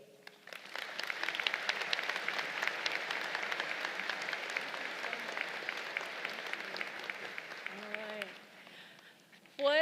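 A large crowd at a 2023 Citadel college commencement ceremony applauds to welcome the commencement speaker, with sustained, dense clapping over roughly eight seconds that fades away, followed by a brief voice at the end.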